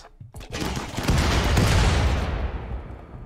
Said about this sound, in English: Snowman just got hit with a uh, grenade launcher